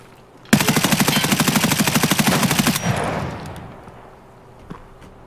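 Sustained automatic gunfire in Escape from Tarkov rattles off in a loud, rapid burst for about two seconds, then a reverberant tail fades out, with one faint distant shot near the end.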